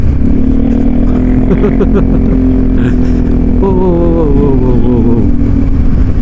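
Motorcycle engine accelerating on a sandy road during touring, loud and close with a steady droning roar and rising pitch, while voices talk over it.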